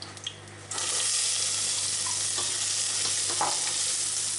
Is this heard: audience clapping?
no